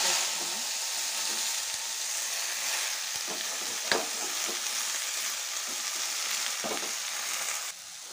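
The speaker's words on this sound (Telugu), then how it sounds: "ఇందులో ఇప్పుడు గోంగూర అయితే ఫ్రై చేస్తున్నాను." Gongura leaves frying in a pan give a steady, close, crackling sizzle with a few soft stirring knocks and no talking.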